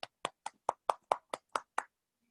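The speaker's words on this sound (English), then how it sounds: "a big round of applause" Short burst of clapping for speakers at a Toastmasters club meeting, roughly nine distinct sharp claps in a quick even rhythm, close and fairly clean, ending abruptly with no voices.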